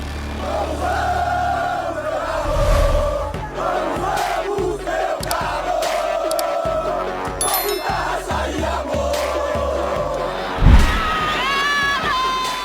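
Atlético Mineiro football fans chant and cheer in a packed stadium during a four-goal derby. The sung chant rolls on steadily, with a loud burst of roaring near the end.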